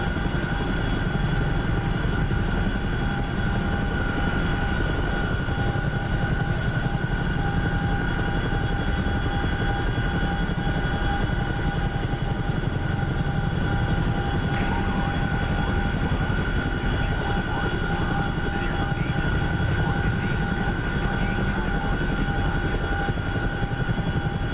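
A remote-controlled model aircraft with front and rear rotors flies with a steady, loud, continuous engine drone and tonal whine that holds for the whole stretch with no voices.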